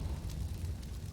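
Short burst of a Molotov cocktail fire in Counter-Strike, a low rumbling whoosh of flames at moderate volume for about a second.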